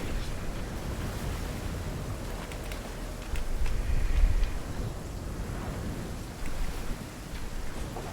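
Flowing river water in the Fortnite video game, a steady broadband wash and rush of moving water, continuous and fairly close with a couple of louder surges, no talk over it.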